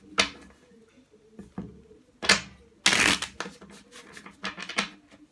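Tarot cards being shuffled in several quick riffling bursts, crisp and close, with short pauses between each shuffle.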